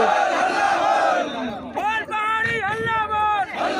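Crowd of villagers protesting in the street over a bridge, a mass of voices chanting and shouting together in loud rising cries, with general hubbub underneath.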